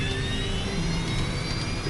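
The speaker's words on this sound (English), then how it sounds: "Setting takeoff thrust." Three jet engines of an American Airlines airliner on flight 191 spool up toward takeoff thrust on the runway, a broad roar with a rising whine, steady and fairly loud.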